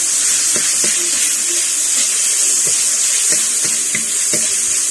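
Tofu frying in a pan, a steady loud sizzle throughout with faint clinks and stirring knocks underneath, no talking.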